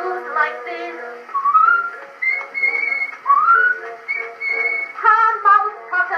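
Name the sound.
whistling on an Edison Amberola phonograph record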